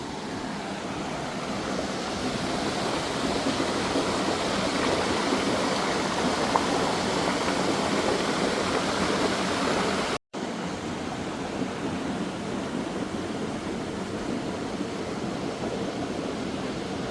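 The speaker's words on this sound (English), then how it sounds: "I hear water flowing ahead" A creek flows near a forest hiking trail in Strathcona Park, BC, a steady rushing water hiss that stays constant throughout with no voices.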